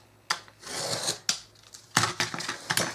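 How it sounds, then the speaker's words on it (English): Scissors or a blade cut through a piece of craft material for a Dollar Tree book box, giving short rasping, scraping strokes in two bursts with a brief pause between, close and fairly quiet. "So I'm just going to go ahead and cut this whole piece down."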